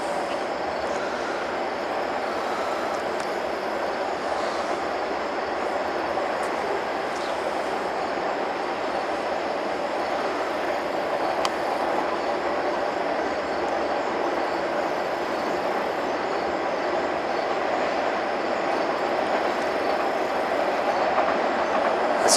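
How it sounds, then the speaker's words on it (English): Trains rolling past steadily in the background near an off-grid tiny house, a continuous rumble with faint rhythmic wheel clatter and no speech throughout. "It's just the trains going by that you hear in the back."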